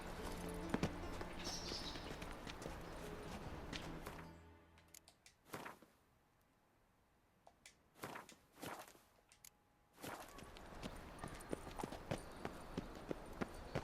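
Roach the horse from The Witcher 3 clip-clopping along at a steady walk, hooves thudding rhythmically and close, with a quiet pause midway before the steps resume amid ambient game sound.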